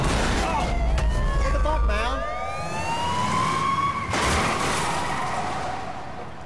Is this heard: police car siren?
yes